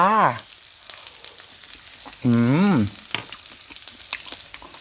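Pork sizzles softly on a Thai mookata grill at home, a low continuous crackle beneath two drawn-out hummed murmurs from a person eating.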